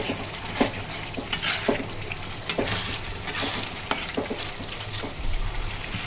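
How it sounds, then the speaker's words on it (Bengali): Spice masala for a spleen curry sizzles and fries in a pan while a utensil stirs and scrapes it in irregular strokes, close and steady, with no talking. "এখন মশলাটাকে ভালোভাবে কষিয়ে নেব।"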